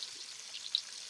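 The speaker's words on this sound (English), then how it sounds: "you want to saute this and bring out the garlic flavor" Garlic sautéing in oil in a pan, cooked for crab bee hoon, gives a faint, steady, hissing sizzle with one small crackle pop during a brief stretch.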